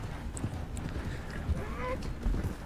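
Horse hooves clopping at a ride in the online game Red Dead Redemption, a steady low thudding gait running under faint game ambience throughout.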